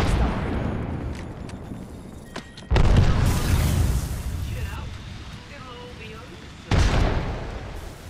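Two heavy booms from a frag grenade detonate in a first-person shooter game, each a sudden loud blast with a rumbling tail, set against continuous game noise and background rumble.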